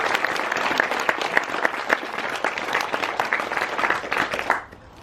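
Wedding guests applauding after a speech: a full room of steady, dense clapping that holds strong for several seconds, then drops away abruptly near the end.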